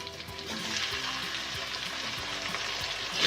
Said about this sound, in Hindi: अब हम इसमें डाल देंगे टमाटर।